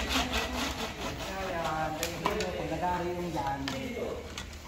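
A small hand saw rasps through wood on a resort construction site in quick back-and-forth strokes, close by, with people talking over it.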